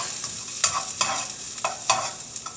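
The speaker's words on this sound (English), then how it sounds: "I've already added the bell peppers and the white onion. I let them sweat a little bit." Bell peppers, white onion and garlic sizzle in a pan with a bright hiss, punctuated by several quick stirring scrapes at a close distance, with no talking.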